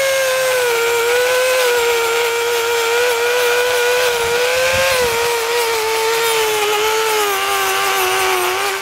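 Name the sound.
wire brush on rotary tool cleaning motorcycle exhaust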